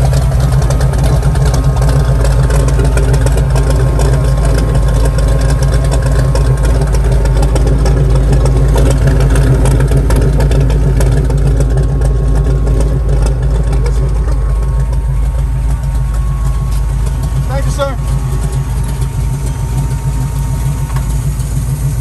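A 500 horsepower car engine idles loudly at an outdoor car show, a steady deep rumble close by for the whole stretch with no clear start heard.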